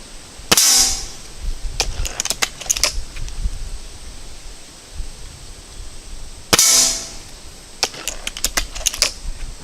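Gamo Swarm and Umarex Buck Mark air guns fire at a metal sign from 10 meters: two sharp shots a few seconds apart, each followed by a quick run of metallic clicks and pings.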